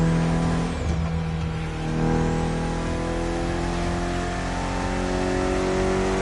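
A Mitsubishi inline four-cylinder engine of about 280 horsepower revs in the video game Crew Motorfest, loud and close, with a steady sustained engine tone that dips briefly and then climbs again.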